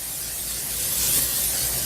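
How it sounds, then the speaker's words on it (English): Non-stick cooking spray hissing into a baking pan in a home kitchen, one steady close spray lasting under two seconds. "a little spray in it there, a little non-stick"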